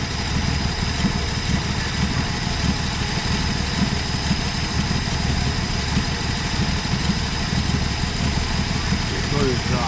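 A Slant 6 engine in a 1966 Dodge Coronet idles steadily and close by, a continuous low rumble with no gaps across the stretch.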